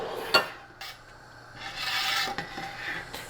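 Stirring boiling apricot jam with pectin in a pot: soft scraping and rubbing of a spoon against the pot, irregular strokes with a few sharper knocks, close and fairly quiet with no talking.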